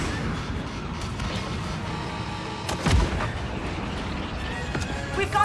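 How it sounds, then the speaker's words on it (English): A missile strikes and explodes in a space-combat video game: a steady roar of battle noise with a sharp, heavy blast near the middle and a smaller thud at the end. "Missile incoming."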